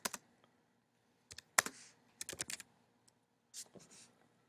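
Keys clatter on a computer keyboard in short bursts of quick, close taps separated by pauses, with no talk over them.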